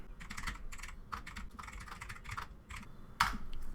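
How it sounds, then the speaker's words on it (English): Typing on a computer keyboard, including pressing and holding the shift key: a close, fairly loud run of quick key clicks arriving in short bursts with brief pauses, and one sharper, louder keystroke near the end. "press and hold the shift key on your keyboard and then type the first letter"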